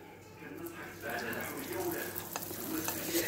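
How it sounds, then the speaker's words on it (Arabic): Beignets frying in oil give a steady close sizzle with some soft clinks and movement, and faint voices sounding underneath. "انا نكمل نقلي يعني كامل لي بيني تاعي"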